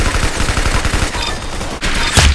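Rapid bursts of gunfire in a shooter game, dense repeated shots rattling loud and close over about two seconds, with a sharper crack near the end.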